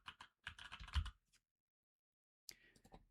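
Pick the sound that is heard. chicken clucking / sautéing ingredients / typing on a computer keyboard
typing on a computer keyboard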